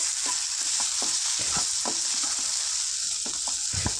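Capsicum curry simmers in oil in a pan, giving a steady, hissing sizzle close by, broken by occasional soft clinks and scrapes of a stirring spoon, with no talking.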